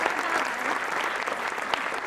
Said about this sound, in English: please give them an extra big round of applause